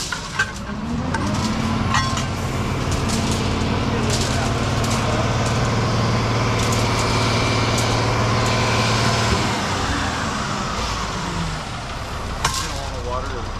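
A fully loaded 10-yard concrete truck rumbles with a steady, loud engine drone while pouring concrete, the low hum holding for most of the stretch before easing off near the end.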